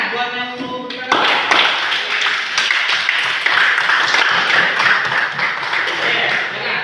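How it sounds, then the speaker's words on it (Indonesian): Students in a classroom burst into applause, a dense burst of clapping that starts about a second in and continues steadily to the end, loud and close. "Tepuk tangan buat yang mau beri tanggapan."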